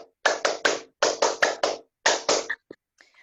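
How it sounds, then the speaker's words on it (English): Hands clap out a rhythmic encouragement pattern in quick bursts of three or four, with short pauses between groups, crisp and close with no talking over them. "conclude with some encouragement of love by clapping our hand"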